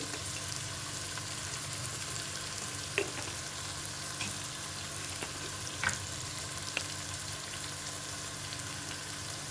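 Ginger-garlic paste frying in a pan with turmeric for vegetable biryani gives a steady, soft sizzle throughout, with a few faint spoon clicks against the pan and no voices.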